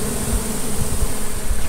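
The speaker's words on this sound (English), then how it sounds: "That's a lot of bees there." A dense swarm of bees hums steadily from a heavy wooden beehive box, a loud continuous buzz close by with no talking over it.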